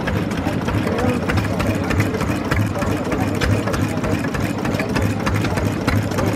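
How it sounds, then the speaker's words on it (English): A vintage stationary engine pumping water runs steadily with a low, regular chugging beat and a busy mechanical clatter, continuous throughout at close range. "that's all the heat you need to make that engine operate and pump your water"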